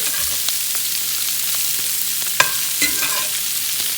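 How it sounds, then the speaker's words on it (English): Brussels sprouts being stirred with oil in a pan, with a steady low sizzle and a few scraping, clattering knocks of the utensil against the pan. "So I'm just kind of mixing this up so the oil covers the Brussels sprouts, all of them."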